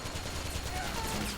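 Gunfire in Metal Gear Solid 4, a short, dense, muffled burst of shots heard within steady loud battle noise, with no talking.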